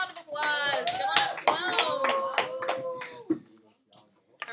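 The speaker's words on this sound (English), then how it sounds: "Everybody give Sloan a round of applause." Classroom students clapping for a volunteer in an algebra class, scattered close handclaps mixed with loud voices talking and cheering over them.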